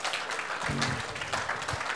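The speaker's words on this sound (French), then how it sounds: "Vous pouvez vous applaudir." An audience at a youth faith gathering claps together in a steady, moderate wash of applause that lasts a couple of seconds with a low voice faintly underneath.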